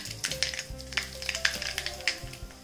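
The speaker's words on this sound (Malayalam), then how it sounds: "എണ്ണ ചൂടാകുമ്പോഴേക്ക് നമുക്ക് 1 teaspoon കടുകിട്ട് പൊട്ടിച്ചു കൊടുക്കാം." Mustard seeds popping in hot coconut oil in a pan, a quick run of sharp, irregular crackles and spits over a soft sizzle, close and fairly quiet.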